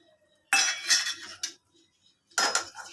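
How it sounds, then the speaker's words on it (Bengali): Whole cumin and coriander seeds dry-roasting in a pan, heard as two bursts of close metallic scraping and clinking of a utensil against the pan, separated by a short pause. "আগে জিরে আর ধনেটা ভেজে নিই"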